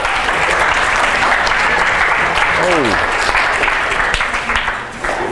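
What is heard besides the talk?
audience applause and clapping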